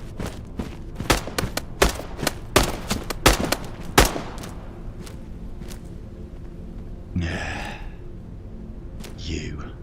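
In Into the Radius 2, enemy gunshots crack out in a quick irregular volley of loud, close reports over the first four seconds, then thin to a few fainter shots as someone speaks briefly.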